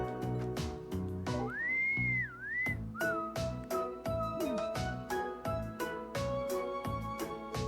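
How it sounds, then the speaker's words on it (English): An innocent-sounding whistled tune from a character in the video game Trails of Cold Steel, clear sliding whistle notes over a steady plucked background music track. "That innocent whistling isn't fooling anyone."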